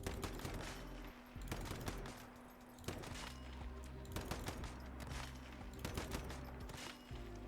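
Rapid gunfire bursts in the video game Once Human, close, dense shots with sharp impacts from shrapnel hits, arriving in several quick clusters over a constant low hum, no talking.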